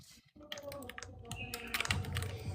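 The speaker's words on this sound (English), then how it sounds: "I'm not that fast of a typer." Rapid, irregular clicking of fingers typing on a computer keyboard, close and fairly crisp, with low background noise and a muffled voice underneath.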